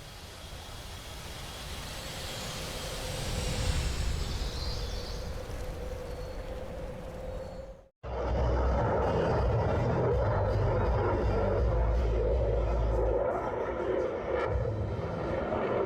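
Jet engine roar of a plane taking off in the Roblox game Aeronautica, a steady loud broadband rush that cuts out briefly midway, then resumes just as loud and dense.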